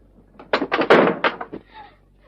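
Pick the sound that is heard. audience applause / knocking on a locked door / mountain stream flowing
knocking on a locked door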